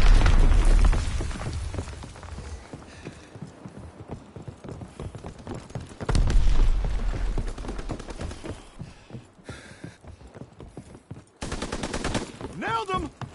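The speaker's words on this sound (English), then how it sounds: "Enemy mortar fire incoming." Enemy mortar fire in a console war video game: heavy, booming explosions land in bursts with dense rapid gunfire and clattering battle noise between them, loud and close throughout.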